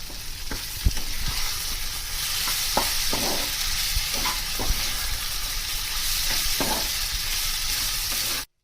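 Fish chop filling made with lote (Bombay duck) fish is stir-fried in a pan, giving a loud, steady sizzle with occasional knocks and scrapes of stirring.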